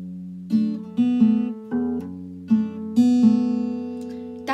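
An acoustic guitar plays a short riff from a song, strummed and picked chords ringing clearly with a steady rhythm and no voices.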